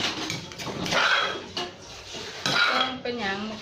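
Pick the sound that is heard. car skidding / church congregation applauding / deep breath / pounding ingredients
pounding ingredients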